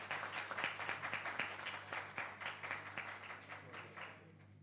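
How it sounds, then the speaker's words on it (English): An audience applauds at a records month launch ceremony in Jamaica, steady clapping from a crowd with dense overlapping hand claps continuing throughout at moderate volume, no voices over it. "give them another round of applause"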